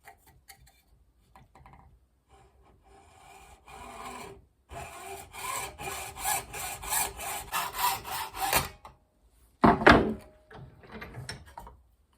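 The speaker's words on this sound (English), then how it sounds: "The only snag with the hacksaw is it makes a bit of a mess" A hacksaw cuts through 32mm plastic basin waste pipe with steady, rhythmic back-and-forth strokes lasting several seconds, close and fairly loud, followed after a short pause by one brief, harsher burst of rasping.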